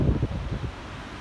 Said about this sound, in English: It is super windy out here.